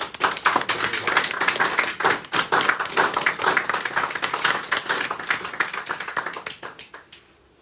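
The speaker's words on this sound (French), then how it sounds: "On peut l'applaudir." A congregation applauds a newly consecrated bishop during an episcopal consecration in church, with dense steady clapping that carries on for several seconds and then tapers away at the end.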